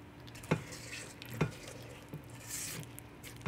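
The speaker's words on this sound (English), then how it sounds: "I'm just going to fold it in" A spatula folds chocolate into box-brownie batter in a mixing bowl, making soft wet scraping with a few light knocks against the bowl at irregular intervals.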